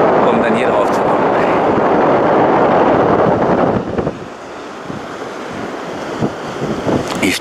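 Wind and surf on the Baltic Sea coast at Sellin on Rügen, a loud steady roar with heavy wind buffeting that eases partway through and continues more softly.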